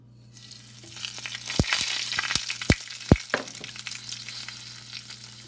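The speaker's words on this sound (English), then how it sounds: "Now here is 1 teaspoon mustard seeds, cumin seeds, and turmeric and 1 tablespoon of dried curry leaves. Let's add it in the hot oil quickly." Mustard seeds, cumin seeds, turmeric and dried curry leaves hit hot oil with a bright, steady sizzle, broken by several sharp pops and crackles from the seeds over a low background hum; no voices.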